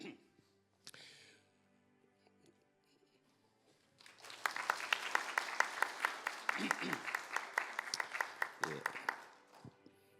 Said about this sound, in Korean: 인사하시면 박수해 주시기 바랍니다.